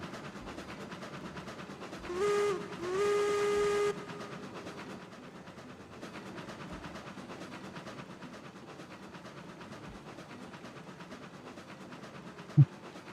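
A steam locomotive in the video game RailRoads Online gives two whistle blasts, a short one then a longer one, over a steady rolling rumble of the train that continues alone afterward.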